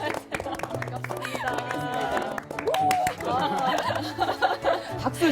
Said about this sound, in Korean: 박수 좋아하시는군요